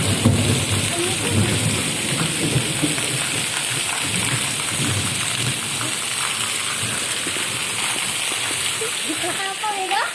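Steady rain pouring down, a dense hiss of drops on surfaces that continues throughout, with people talking faintly underneath.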